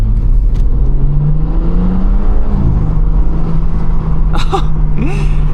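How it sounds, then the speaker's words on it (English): A steady, low drone from a BMW G80 M3 exhaust, with a rising then falling pitch as the throttle opens, fairly loud and continuous, with faint squeaks near the end. "Very, very little sound is gonna be coming from the exhaust, even when I give it throttle."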